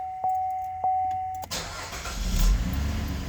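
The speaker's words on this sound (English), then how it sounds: "Start the engine and turn on your headlights." A car engine starts up with a cranking burst that settles into a steady running hum, preceded by two short chime beeps from the dashboard, as the engine is started for an alternator check.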